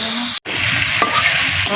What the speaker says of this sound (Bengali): কলা ভাজা হয়ে গেছে না, এই যে মশলা দিয়ে দিলাম। ভালো করে মিশাই নেব।